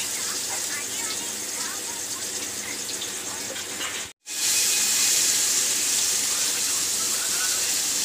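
Fish and ridge gourd being washed under running tap water: a steady, close hiss of flowing water that cuts out briefly midway, then returns slightly louder.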